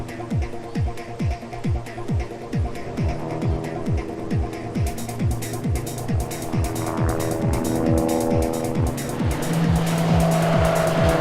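Porsche 924 race cars battle at Oulton Park in a 2013 BRSCC Porsche round, their engines revving hard and rising repeatedly through the gears, loud and close and continuous, with the tone building as another car joins toward the end.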